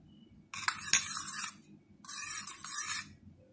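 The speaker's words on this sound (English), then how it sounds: "Now I will add 1 spoon here to the lemon juice" A spoon stirring and scraping inside a glass of lemon juice with turmeric added, two bursts of light clinking and scraping separated by a short pause, close and fairly quiet.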